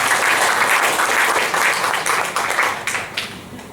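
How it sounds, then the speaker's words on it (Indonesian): At a junior high school graduation ceremony in Bogor, an audience applauds the teaching staff with loud, close, many-handed clapping that thins out and fades over the final second or two. "Jadi tepuk tangan buat Dewan Guru."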